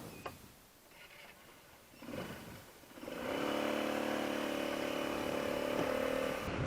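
A Vespa Notte 125 scooter starts up and rides off. Quiet handling noises come first, then the small engine settles into a steady, fairly loud drone that holds to the end.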